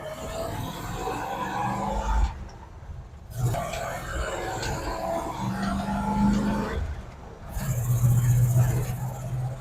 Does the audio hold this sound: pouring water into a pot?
no